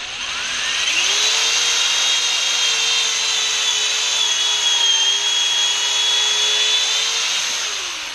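A Kreg jig pocket-hole drill bit boring into a 2x4 clamped to a bench, a steady, loud power-drill whine held for about seven seconds with no talk.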